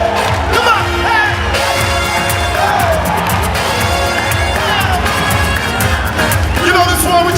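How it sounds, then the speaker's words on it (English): A large crowd at a political party congress opening ceremony cheers, whoops and claps along loudly and continuously, with a voice urging them on over the roar. "Let me see every hands clap."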